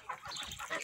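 Kholmogory geese and goslings calling, a few short, soft honks and peeps in quick succession, faint and close, with no voices.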